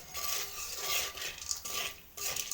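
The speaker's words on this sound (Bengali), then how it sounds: "আগে এলো লবণ আর তেল দেবেন, তারপরে এভাবে নাড়তে হবে কিছু সময়" A utensil stirs food with salt and oil in a cooking pot, making close, scratchy scraping strokes in uneven bursts with short pauses between them and no voices.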